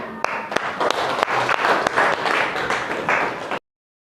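Classroom applause for a student named Fahri after a physics demonstration on motion, a burst of many hands clapping close by for about three and a half seconds before stopping abruptly into silence.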